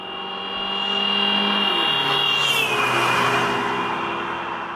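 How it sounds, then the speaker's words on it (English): A car passes close by sounding its horn, the steady tone dropping in pitch as it goes by, over a swelling engine and road roar that peaks mid-pass and stays loud. "We hear this effect when a moving car blows its horn as it passes us."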